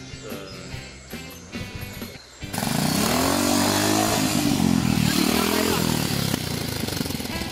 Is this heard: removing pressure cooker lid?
no